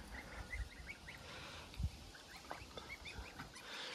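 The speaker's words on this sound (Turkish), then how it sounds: "Müthiş bir kaz arkadaşlar." A male goose guarding goslings in a farm flock lets out scattered honks and hisses at a distance, faint calls among other fowl over low outdoor noise.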